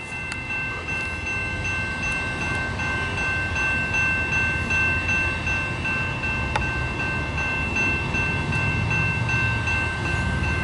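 A CN eastbound autorack freight train led by two locomotives rolls past steadily at Battle Creek, Michigan, a continuous broad rumble of wheels and cars holding at constant loudness throughout, with no voices.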